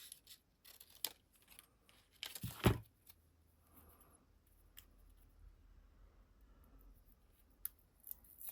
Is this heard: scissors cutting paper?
yes